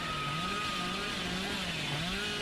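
A chainsaw revs steadily in a Dead by Daylight match, its wavering engine drone sitting at moderate level and running continuously with a slight rise and fall in pitch.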